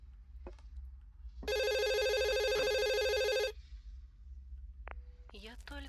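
A telephone rings in the horror video game Please, Forgive Me, one loud continuous electronic ring lasting about two seconds over a low steady hum, followed by brief electronic tones and faint voice-like sounds.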